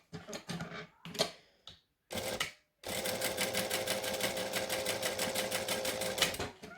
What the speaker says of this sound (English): I'm going to top stitch along the outer edges